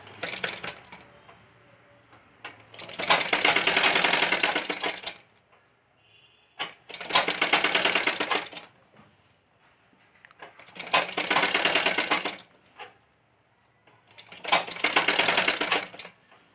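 A sewing machine stitches a lining strip onto a kurti neckline in four bursts of rapid whirring, each a few seconds long, separated by quiet pauses with faint handling clicks.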